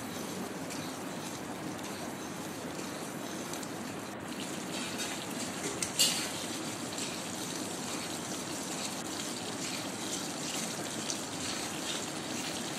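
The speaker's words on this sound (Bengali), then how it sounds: "মশলা খুব ভালোভাবে কষাতে থাকবো" Spice masala paste fries in oil for a rohu fish curry, giving a steady, dense bubbling sizzle throughout, with one brief sharp clink near the middle.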